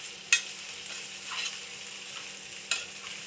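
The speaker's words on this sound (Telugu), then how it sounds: "ఇలా మంచిగా మొత్తం కలిసేటట్టు కలుపుకోవాలి" Food is stirred in a pan over low heat, with two sharp scrapes of a spoon against the pan standing out above a soft, steady sizzle, without any talk.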